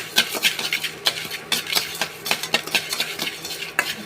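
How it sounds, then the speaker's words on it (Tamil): A spatula scrapes and clinks against a pan as salt is dry-roasted for black urad dal idli podi, in quick irregular strokes close by with no talking. "உப்பு லேசாக வறுத்துக்கிடுவோம்"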